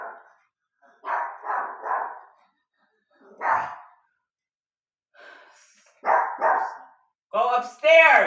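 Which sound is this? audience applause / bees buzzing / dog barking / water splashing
dog barking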